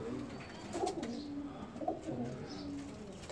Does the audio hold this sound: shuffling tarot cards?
no